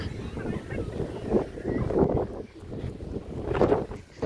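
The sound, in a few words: wind blowing at the beach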